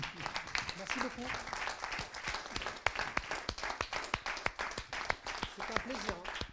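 An audience claps after a lecture, with loud, uneven clapping and scattered sharp individual claps, while a voice speaks briefly beneath the applause.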